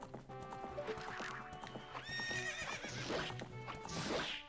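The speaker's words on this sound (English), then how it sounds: "She is a horse, after all." Horse neighing in the video game Zelda: Ocarina of Time, a clear whinny over steady clip-clopping hooves at close range.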